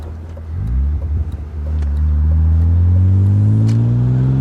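A BMW E36 M3 engine revs up from idle, the deep exhaust note climbing steadily in pitch and holding loud and close, with no talking over it.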